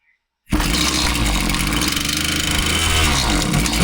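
A Husqvarna 525PT5S pole saw's small two-stroke engine cuts in abruptly after a brief silence and runs loud and close, with a steady, slightly uneven drone.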